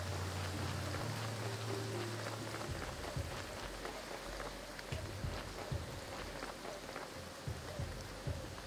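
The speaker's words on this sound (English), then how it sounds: "Raining." Steady rain falls in the video game Graveyard Keeper, a dense, even hiss running the whole time with scattered soft pattering, joined by a low droning tone near the start.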